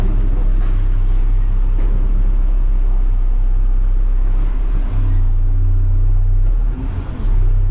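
A front-load garbage truck drives along, its engine producing a loud, steady low drone with road rumble heard from inside the cab, with no pauses.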